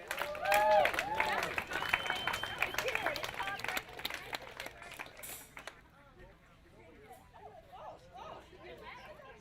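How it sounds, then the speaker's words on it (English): Audience applause and cheering for the women's slalom champions at the Calgary Cup overall water ski finals, loud and dense at first with crowd chatter mixed in, then fading to a quieter outdoor murmur. "One last round of applause for your women's slalom champions."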